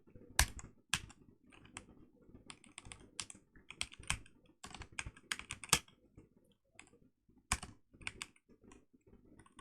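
Code being typed on a computer keyboard: rapid, uneven bursts of close, crisp key clicks with brief pauses between runs, and no voice.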